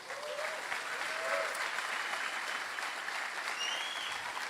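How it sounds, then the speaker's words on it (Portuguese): A church congregation applauds in praise after worship, a steady, sustained wash of clapping from many hands that holds evenly for several seconds with a slightly distant, roomy feel. "Irmão, você pode aplaudir o Senhor pelo louvor da nossa igreja?"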